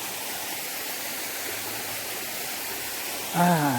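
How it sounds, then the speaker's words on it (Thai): A man-made waterfall at Wat Tham Khao Wong in Ban Rai, Uthai Thani, Thailand, gives a steady, soft rush of falling water. A voice breaks in briefly at the very end. "น้ำตกที่สร้างขึ้นมาด้วย มือมนุษย์เรานี่เองนะครับ แต่ว่าสวยงามครับผม"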